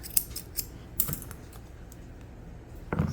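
Scissors cutting Shih Tzu fur during grooming, a few sharp snips spaced apart over a low background rumble, close and moderately quiet, with a louder clatter at the end.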